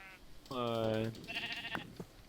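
Sheep in a video game give a loud, close bleat followed by a shorter second bleat, with an electronic, game-like tone.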